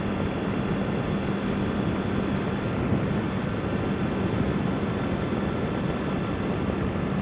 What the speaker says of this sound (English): I'm out here on the BMW S1000. Thought I'd get a little ride today.